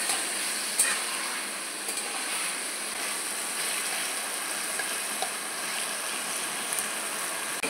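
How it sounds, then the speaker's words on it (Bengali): Taro leaves (kochu shak) being stirred in a hot pan in a village kitchen, giving a steady, close bright sizzle with faint occasional scrapes of the spatula, no voices. "এটাকে আমি এবার এরকম করে নাড়তে থাকবো। নাড়তে নাড়তে আস্তে আস্তে কচুর থেকে এরকম জলটা বেরিয়ে আসবে।"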